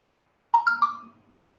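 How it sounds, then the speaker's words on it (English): A mobile phone plays a short ringtone burst of a few bright melodic notes that then fade, alone in otherwise silent surroundings. "That's my phone again."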